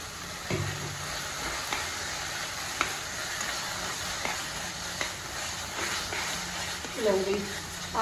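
Saag greens go into a hot tadka tempering, giving a steady close sizzle and frying hiss with scattered stirring clatter, while someone talks over it throughout.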